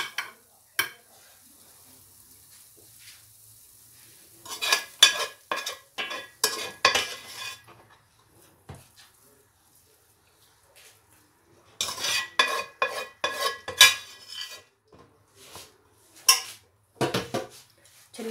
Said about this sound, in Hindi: चलें जी, डिश आउट कर लिए